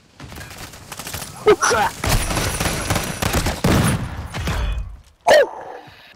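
Gunfire in Call of Duty: Modern Warfare II, with bursts of shots and sharp impacts running through a dense, loud firefight while a player voices a brief exclamation.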